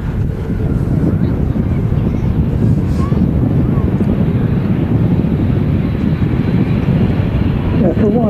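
A Virgin Atlantic Airbus A330 departs Manchester Airport for JFK on a very windy day, giving a loud, steady low jet roar that runs throughout, mixed with rough wind buffeting on the microphone.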